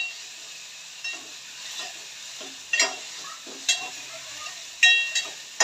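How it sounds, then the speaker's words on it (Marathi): Garlic and tomato roasting in a pan, a soft continuous sizzle broken by several sharp spatula scrapes and clinks against the metal. "लसूण टमाटर टाकलेलं आहे. ते छान भाजून घेणार आहे आता"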